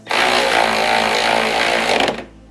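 A power tool hammers continuously for about two seconds while tightening a ball joint nut on a Ski-Doo XM chassis snowmobile suspension, loud and close, then stops abruptly.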